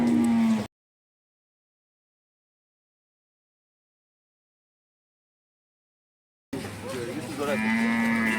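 Cows at a busy cattle market moo loudly and close by, one low drawn-out moo at the start and more lowing after a silent gap, with crowd noise around.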